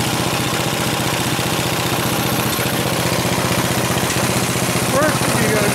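A small homemade cart's engine runs steadily with a dense, continuous mechanical drone and rapid pulsing, staying loud throughout as it works through the gears, with a brief rising whine near the end.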